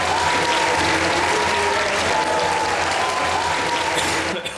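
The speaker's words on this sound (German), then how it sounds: "Applaus für unsere Olympiahelden" Studio audience on a talk show gives sustained, thick applause for Olympic athletes, a continuous roar of clapping that fades at the very end.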